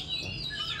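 An oriental magpie-robin kept as a caged songbird gives a quick string of thin, high chirps and tweets, close and clear against a low background hum.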